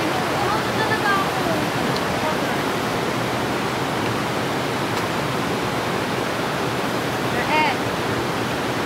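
Tibag Waterfalls rushing and crashing in a continuous loud broadband roar, close and steady throughout, with a faint bird chirp briefly audible over it near the end.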